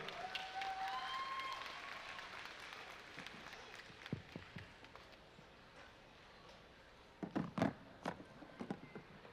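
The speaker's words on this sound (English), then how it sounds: "Big round of applause for Brother Mansour" An audience applauds as a speaker comes on stage at an expo keynote; loud, dense clapping fills the first few seconds, then thins out to scattered claps and a few sharp bursts near the end.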